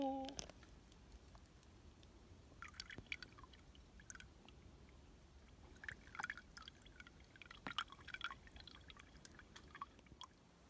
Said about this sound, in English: I'm gonna filter some water to refill my bladder and refill me using my Sawyer Mini